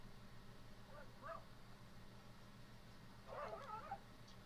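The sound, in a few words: dogs barking in the background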